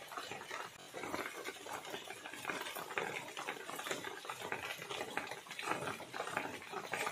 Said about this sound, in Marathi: आता आम्ही गूळ पण ते चिरून घेऊया।